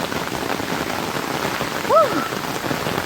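Heavy rain from Tropical Storm Zeta in Jamaica pours down in a dense, steady patter on surfaces nearby, with a brief high vocal cry rising over it midway.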